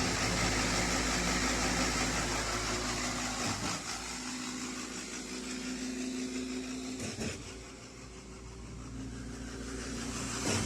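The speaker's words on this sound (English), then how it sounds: "Here is Weikai engine." A Weikai diesel engine runs steadily on a Hengyuan concrete pump, a continuous mid-pitched drone with a low hum and slight shifts in load, close and fairly loud with no talk.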